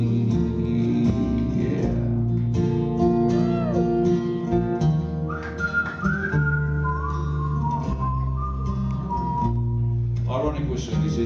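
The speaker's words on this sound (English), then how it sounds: "Ironic whistling this is." Melodic whistling carries the tune of a song, loud and sustained over guitar and band accompaniment, gliding between notes.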